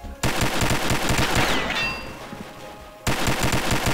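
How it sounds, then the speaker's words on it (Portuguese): Rapid bursts of automatic gunfire in a video game, loud and continuous, broken by a brief lull with a metallic ring before the shooting resumes. "Troca de tiro, Raid voltou e levou"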